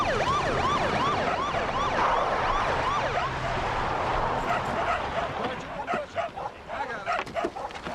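Several dogs barking and yipping excitedly against a wailing siren in the background, the barks close and overlapping, growing more scattered toward the end.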